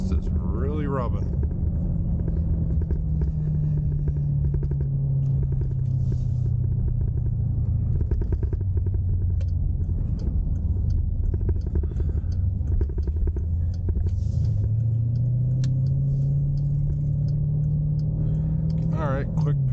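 Deep, continuous exhaust rumble from a 2022 Dodge Durango SRT 392 while driving, a loud low drone rising and falling with engine speed, with occasional voices in the cabin.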